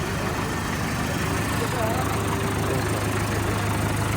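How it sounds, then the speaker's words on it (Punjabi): A Sonalika 750 tractor engine runs at a steady idle, a constant low droning hum throughout, with faint voices in the background. "ਆਵਾਜ਼ ਚੈੱਕ ਕਰੋ ਬਾਈ ਟਰੈਕਟਰ ਦੀ"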